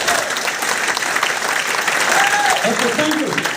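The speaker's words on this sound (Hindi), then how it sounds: "थोड़ा ताली जोर से 1 मिनट बजाओ" Audience clapping in a Hindi motivational seminar hall, steady continuous applause filling the room at a loud, even level for the whole stretch, with brief voices faintly mixed in near the end.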